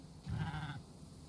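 A Minecraft llama gives a single short bleating cry, quiet and nasal, lasting about half a second against faint background hiss.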